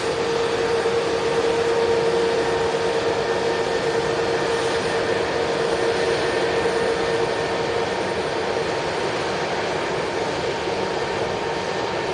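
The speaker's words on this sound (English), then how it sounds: "With the ATR landing, that should give permission for the Iceland Air to cross." An ATR turboprop airliner touching down at Manchester Airport, a steady broad engine roar with a constant droning tone, moderately distant and unbroken.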